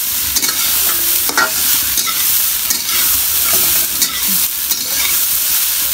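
Rice fries in a pan with a loud, steady sizzle. A spoon stirs it close by, scraping and knocking repeatedly.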